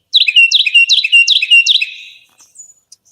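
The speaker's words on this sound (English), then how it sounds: "So this is a Carolina wren, and they've been quite vocal." Carolina wren calling: five quick, bright, repeated chirping phrases in a fast, sing-song rhythm, followed by a couple of fainter short notes, clear and close with no background noise.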